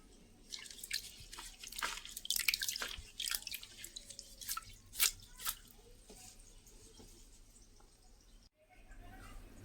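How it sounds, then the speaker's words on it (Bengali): Water shaken off freshly washed flowers, a quick cluster of close wet drips and splatters that thins out into quieter scattered drops, with soft handling noises and some talk. "জল ঝাড়িয়ে নেব।"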